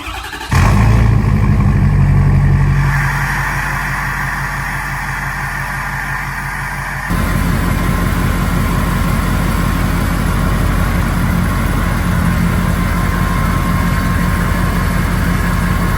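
A Ford F-250 truck on 26x16 wheels fires up loudly beneath a building, its engine revving hard at first, then settling into a steady, rumbling idle that continues to the end, with no talking.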